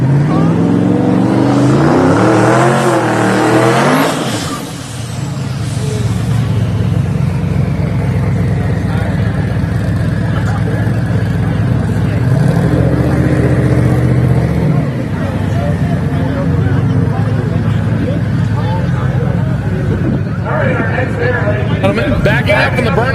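Lexus and Camaro drag race cars roar down the strip at a drag racing event, a loud, sustained engine howl that rises and falls, with a commentator talking over it throughout.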